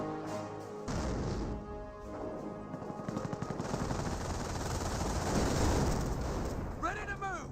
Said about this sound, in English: And that looks like a regular barrage.